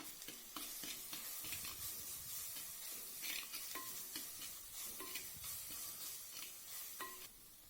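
Tomatoes and onions for a vegetable white kurma sizzle softly in a pan while a spoon stirs and scrapes with intermittent clinks, close and fairly quiet, no talking.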